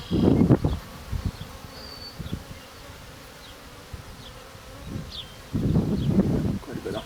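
Honey bees buzz steadily around an open hive during an inspection, with louder close bursts of buzzing and rustling at the start and end, and quieter droning in between.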